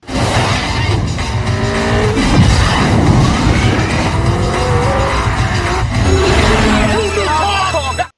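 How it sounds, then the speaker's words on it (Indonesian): A car on nitrous in a street chase from Fast Furious 2 roars loud and close as its tires squeal and skid, with engine whine sweeping up, while a voice talks over it. "Brian pun menekan nitrosnya"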